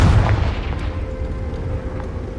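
Confringo blast spell in Hogwarts Legacy, a sharp booming explosive burst at the start that fades into a rumbling tail with a faint lingering tone.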